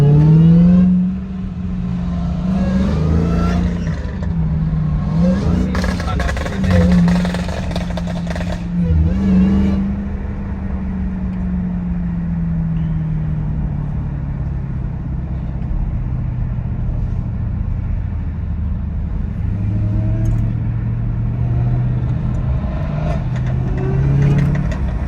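Dodge Hellcat and AMG C63S engines rev and rumble loudly close by in a rich neighbourhood, with repeated throttle blips early on, then a sustained droning growl and further surges near the end.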